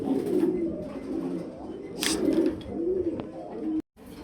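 Racing pigeons coo nearby in repeated low, throaty rolling calls, with a brief rustle or flutter in between.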